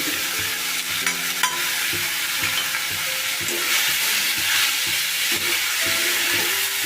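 Lote (Bombay duck) fish being stirred in a hot pan with green chilli, salt, turmeric and Kashmiri chilli, a constant sizzle with repeated scraping strokes of the spatula, close and steady.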